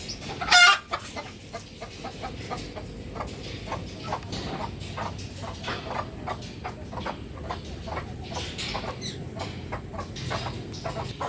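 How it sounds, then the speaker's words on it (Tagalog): A brooding hen clucks in low, steady, repeated murmurs, with a brief louder squawk near the start and faint farmyard noise around. "Yung naglilimlim na manok."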